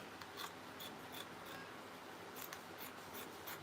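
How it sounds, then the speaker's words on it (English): Scissors snip through a sewing pattern for an Ankara peplum top and mini skirt set, a steady series of faint, crisp cuts repeating every half second or so in a quiet room. "Cutting out this pattern."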